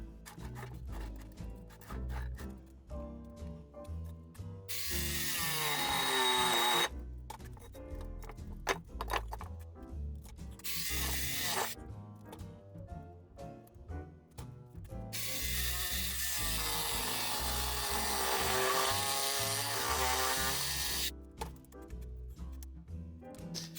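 A reciprocating saw trims rubber off a tire rim clamped to a work table, loud buzzing bursts of cutting broken by pauses and clicking handling noises, with two long sustained runs of sawing.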